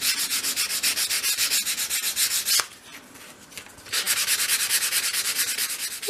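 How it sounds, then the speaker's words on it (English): Sanding small wooden dollhouse arched-window pieces with 240 grade sandpaper: rapid, rhythmic back-and-forth rasping strokes, close and steady, with a short quieter pause midway before the strokes resume. "I'm now going to use my 240 grade sandpaper to sand the surface of each piece."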